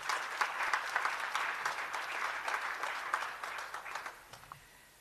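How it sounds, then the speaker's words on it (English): An audience at a ministerial public event gives a dense, sustained round of applause that holds steady for several seconds, then thins and fades toward silence. "Can we give the program director a good round of applause?"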